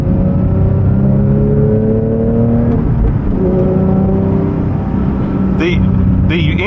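A 2024 Porsche 911 GT3's engine pulling hard from inside the car, a loud sustained drone with rising gear-by-gear pitch sweeps and a brief shift dip, while a voice talks over it.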